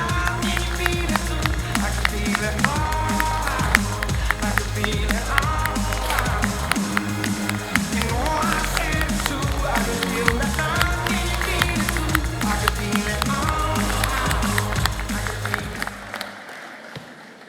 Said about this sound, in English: Everyone, please join me in a worthy round of applause.